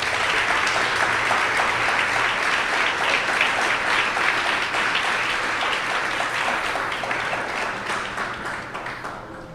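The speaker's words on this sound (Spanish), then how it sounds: "Dele un aplauso al Señor" A church congregation applauds the Lord in a steady, dense burst of many hands clapping that stays loud for about nine seconds, easing slightly at the end, with no talking over it.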